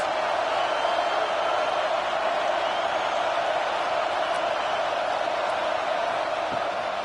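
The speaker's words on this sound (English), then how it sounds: "Big 3rd down as the crowd gets behind this defense." Steady, continuous roar of a stadium crowd in a PS5 football video game, a dense even wash of cheering noise at moderate loudness throughout, with no clear peaks or breaks.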